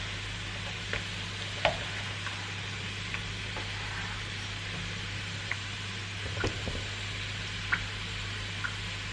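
Bidaran keju, a cheese dough snack, frying in hot oil: a steady, fairly loud sizzling hiss with a few sharp pops and ticks scattered through it, over a constant low hum.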